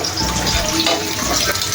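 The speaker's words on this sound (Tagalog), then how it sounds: "Lakas po ng tubig, ito'y galing bundok." Strong mountain water gushes from a tap into a basin during home cooking on a rainy day, a loud, continuous splashing rush close by.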